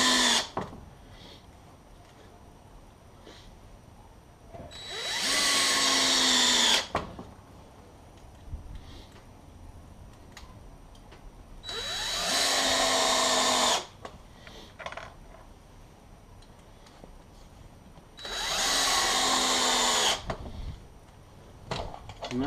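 A power drill drives screws into DIY outrigger landing gear pads in three separate whirring bursts of about two seconds each, with quiet gaps and faint background sounds between them.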